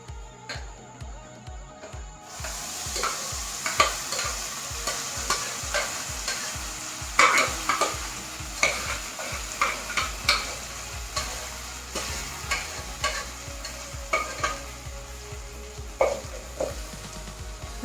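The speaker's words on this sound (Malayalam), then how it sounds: "നമുക്കിത് നന്നായി ഒന്നിങ്ങനെ ഇളക്കി കൊടുക്കാം" Tapioca pradhaman being stirred in ghee in a pan, with a steady run of scraping, clinking strokes and a soft sizzle underneath, close and fairly loud throughout.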